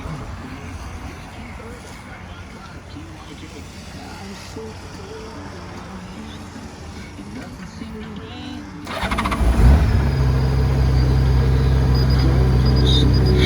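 Background talk gives way to a 2012 Honda Goldwing motor trike with a Prowler kit cranking and rumbling into life, then settling into a loud, steady idle close by.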